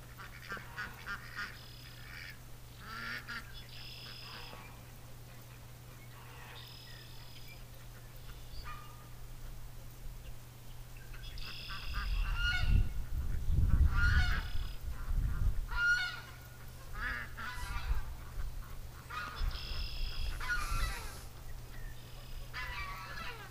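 Ducks in a yard call out in repeated honking, quacking bursts spread over a steady low hum, growing louder and busier midway with some rustling and low thumps nearby.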